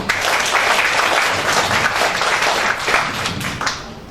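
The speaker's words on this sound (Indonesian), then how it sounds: "Beri aplaus buat guru-guru." A live audience bursts into sustained applause for the teachers at an event, dense crowd clapping holding steady for about four seconds before tapering slightly at the end.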